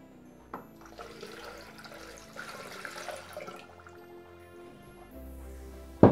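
Water is poured into a Thermomix bowl already holding sugar to make syrup, a soft steady trickle and splash that builds toward a louder burst at the end.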